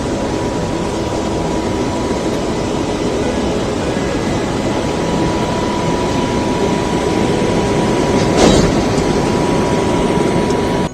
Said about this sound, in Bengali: লোকোমোটিভ কিন্তু লেগে গেল, এবার ট্রেনে উঠে পড়া যাক